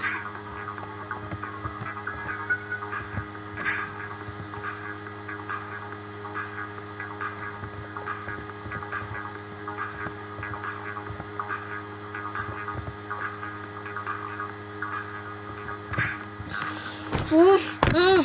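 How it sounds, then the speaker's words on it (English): Computer humming with a steady low electrical drone and faint whine throughout, with a few soft clicks and a brief louder warble near the end. "My computer is making noise."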